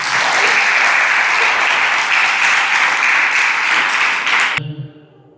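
Audience clapping at a Guru Purnima celebration in Karnataka, a dense, loud burst of applause that holds steady for several seconds and then quickly dies away.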